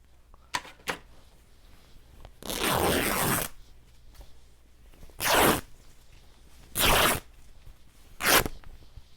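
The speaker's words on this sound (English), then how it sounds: "I'm going to try and tear that and see if it tears straight" Paper being torn for the cover of a handmade journal, heard as a few close, dry ripping strokes. The longest pull comes first and three shorter tears follow, separated by quiet pauses, with small handling clicks near the start.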